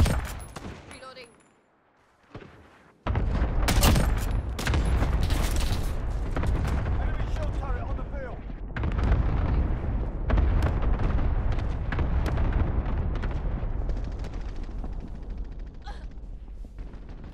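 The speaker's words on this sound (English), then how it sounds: "Allied cluster strike inbound." Cluster strike explosions in Call of Duty: Modern Warfare, a sustained loud barrage of overlapping blasts and gunfire rumbling on for many seconds after a brief quiet start, with faint game voice lines mixed in.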